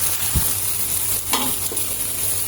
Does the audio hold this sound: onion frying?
yes